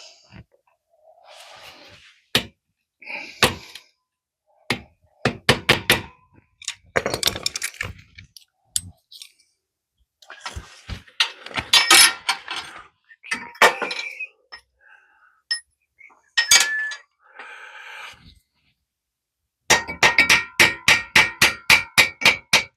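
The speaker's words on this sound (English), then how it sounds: "Grab the hammer and see if I can tap it through." Metal-on-metal hammer taps driving a motor mount bolt out of a 1993 Warrior during a teardown, sharp ringing strikes in irregular bursts, ending with a fast even run of about a dozen blows, close and loud with no talk.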